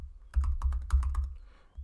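Typing on a computer keyboard while entering search terms into a database: a quick burst of about a dozen crisp key clicks, close and clear, then a brief pause, with no talk.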